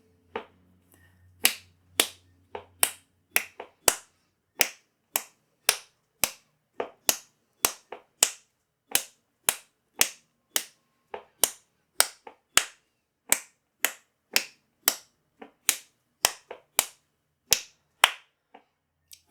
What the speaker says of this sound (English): Now on top of this, we're going to clap a rhythm together.